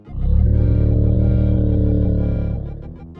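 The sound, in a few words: Snorlax cry or snore, Pokémon video game sound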